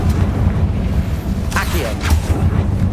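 A Confringo blasting spell detonates in Hogwarts Legacy, giving two short, loud booming bursts close together over steady game ambience, with a voice speaking nearby.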